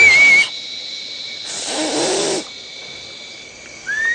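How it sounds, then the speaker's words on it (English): A person whistles a steady high tone in a Sarawak rainforest, held briefly and then fading, with hissing background noise swelling in the middle. "They heard my whistle."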